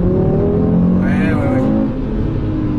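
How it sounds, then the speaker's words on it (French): A 2018 Audi RS, shifted into second gear, pulls hard with a loud rising engine roar and a sharp surge partway through before settling back, as someone talks over the noise. "vous mettez un coup 2 pour relancer, alors ça repart avec une force"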